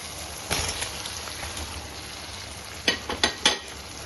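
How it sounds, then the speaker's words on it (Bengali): Potatoes go into spice paste frying in oil for a vegetarian aloo dum. A steady low sizzle runs throughout, with a few sharper clattering bursts near the end as the pieces drop in and get stirred. No one speaks. "মশলাটা এবার পুরো কষানো হয়ে গেছে, চারিপাশ থেকে দেখো তেলটা ছেড়ে এসছে। এবার এর মধ্যে দিয়ে দেবো আলু।"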